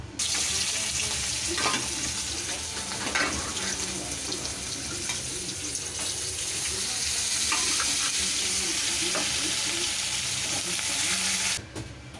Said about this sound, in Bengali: কড়াতে তেল গরম করতে দিয়েছি এবার ওর মধ্যে মাছগুলো একে একে দেবো